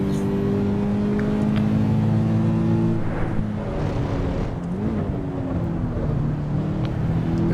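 Toyota GR86 engine in the Assetto Corsa EVO racing game at Laguna Seca, a steady, loud engine drone with harmonic tones that shift pitch as the car changes gear and revs, continuous throughout.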